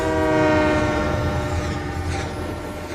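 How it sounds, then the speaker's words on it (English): A CSX freight train passes in an animated film scene, its horn sounding in a loud, sustained, multi-tone blast over a rumbling roar of rolling wagons. "There's a CSX train."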